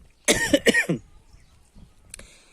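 A person coughs twice in quick succession, close and loud, followed by a faint throat sound and quiet room noise.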